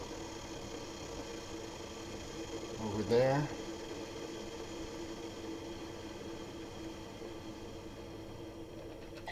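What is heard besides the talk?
drip coffee maker starting up, heating water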